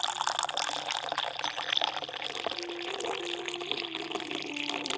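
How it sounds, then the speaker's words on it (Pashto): Tea poured into a cup, a continuous bright liquid stream with splashy trickling that runs for several seconds, close and moderately loud. "چای واچوه"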